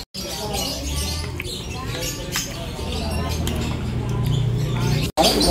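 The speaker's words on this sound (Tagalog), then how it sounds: "Tsaka ang ingay ng mga ibon." Birds chirp noisily outdoors at a resort in Tanauan, Batangas, a busy tangle of twittering calls over a low steady rumble, fairly close and continuous, with no speech.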